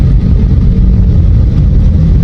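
A car crawls through heavy traffic, giving a loud, steady engine drone with deep low rumble and no breaks, heard close from inside the vehicle.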